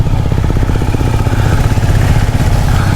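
A Royal Enfield Himalayan single-cylinder engine thumps steadily while riding along a mountain road, a loud, close, rhythmic pulsing throb with slight clatter.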